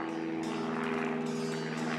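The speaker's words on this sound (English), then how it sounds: "do you hear the planes?" Propeller aircraft flying overhead as a theater sound effect, a steady droning engine hum holding at an even level throughout.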